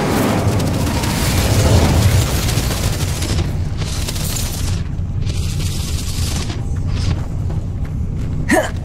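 Fiery spell blast in the Hogwarts Legacy video game: a loud, continuous roaring burst of flame and rumbling booms that thins out partway through, with a sharp crackle near the end and no talk.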